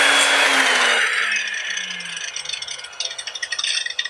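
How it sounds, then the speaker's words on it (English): An Evolution Rage3 power saw cuts into a piece of oak, a loud, harsh whine and scrape up close that fades after about a second into a quieter rattling and clattering as the cut ends. "I'm going to start off with a piece of just oak, and we're going to give it a nice cut"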